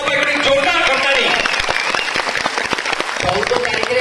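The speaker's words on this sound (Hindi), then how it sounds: "एक जोरदार करताली" A crowd at a public gathering bursts into loud, sustained clapping, close and continuous, with a voice speaking over the applause.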